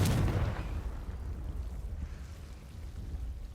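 A Confringo spell blast from Hogwarts Legacy bursts loudly at the start and then fades into a rumbling, crackling decay that lingers faintly to the end.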